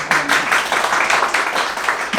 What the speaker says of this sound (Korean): 우리 정규만 동지에게 뜨거운 박수 부탁드립니다